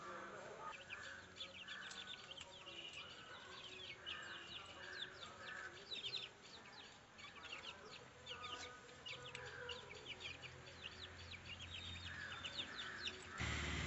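Month-old native chicks, hatched at home under a brooding hen, cheep and peep in a busy continuous chorus of high calls, with a few lower clucks and faint rustling nearby.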